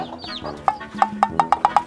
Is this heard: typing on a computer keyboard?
no